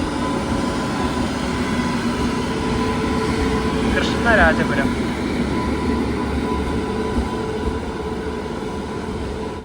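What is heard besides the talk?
Intercity train with WP7 locomotive arriving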